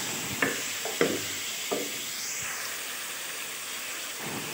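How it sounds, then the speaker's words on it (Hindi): Half a kilo of mutton sizzles in a pan with onions, garlic and ginger powder, a steady frying hiss broken by a few soft stirring knocks near the start. "और गोश्त को प्याज के साथ थोड़ा सा फ्राई कर लेंगे।"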